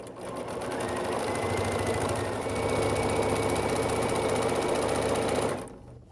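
A sewing machine runs steadily for about five seconds while stitching a pillowcase seam, a close, even mechanical whir that stops abruptly at the end.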